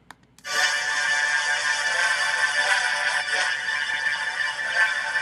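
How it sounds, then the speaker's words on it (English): A bright, buzzy synth-punk synth melody with bass plays steadily on its own, dense and sustained, with no voices. "That with the bass together sounds like this"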